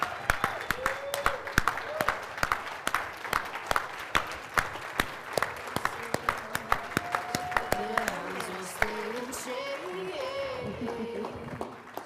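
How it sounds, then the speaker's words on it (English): Audience applause for two doctors coming up to the stage at a leaders' event in Puerto Rico: dense, sharp clapping runs for about twelve seconds, with voices and cheering rising over it toward the end. "Big round of applause."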